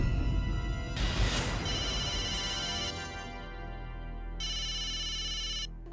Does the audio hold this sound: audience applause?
no